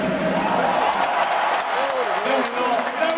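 Steady applause from spectators at an indoor motorcycle trial event in Barcelona, continuous clapping with crowd noise throughout while a commentator talks over it.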